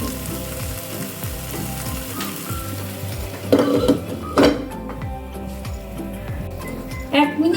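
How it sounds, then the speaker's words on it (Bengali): Whole cumin seeds sizzle softly in oil in a covered pan over a low flame while someone talks over the steady frying, with a few louder clatters partway through. "গোটা জিরে দেওয়ার পরেও এটাকে আমি আরো 1 মিনিট চাপা দিয়ে লো ফ্লেমে হতে দেব।"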